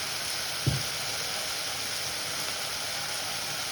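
Okra sambar ingredients sauté in a pan with salt and asafoetida, making a steady, even sizzle throughout, broken once near the start by a single short knock.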